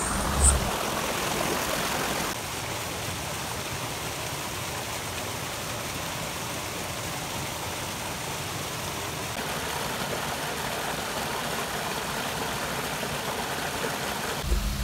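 A stream rushes continuously over rocks near Kallathagiri Falls in a broad, steady wash of noise, constant and close, with no voices.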